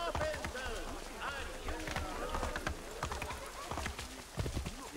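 Horse hooves clip-clop in Assassin's Creed III, a steady run of sharp hoof strikes heard close and fairly loud, with a voice talking over them throughout.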